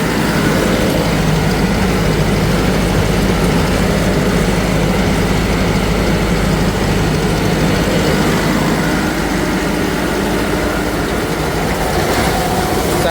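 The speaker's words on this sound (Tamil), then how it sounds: "CRDI கொடுத்ததில் இன்ஜின் நாய்ஸ் பார்த்தீங்கன்னா ரொம்ப கம்மியாக இருக்குதுங்க." A Deutz-Fahr Agrolux 80 CRDI tractor engine runs loudly and steadily, with its PTO engaged, as a constant low rumble throughout with no talk.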